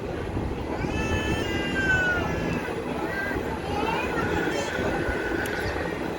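A passenger train rolls along with a steady, close rumble from inside the carriage, with thin metallic squeals rising now and then and faint voices beneath.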